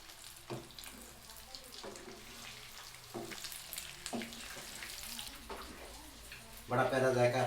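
Kofta meatballs browning in hot oil for a kofta curry give a steady broadband sizzle, with soft recurring clatters from stirring and a louder, busier burst of sizzling near the end.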